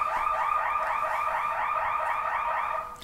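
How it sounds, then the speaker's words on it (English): A building fire alarm sounding during a podcast recording, a loud continuous wailing tone with rapid repeating sweeps that holds steady for about three seconds before easing slightly at the end. "the fire alarm goes off"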